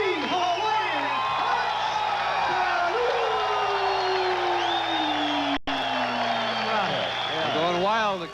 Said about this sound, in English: They're going wild, the crowd.